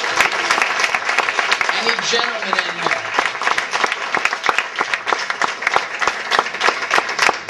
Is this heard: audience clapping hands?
yes